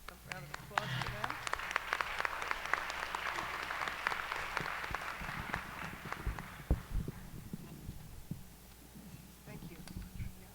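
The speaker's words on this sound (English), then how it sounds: "A round of applause for them." An audience at a local candidate forum in Oneonta claps for several seconds, a dense patter of many hands that is fairly distant in the room and tapers off toward the end, with some voices under it.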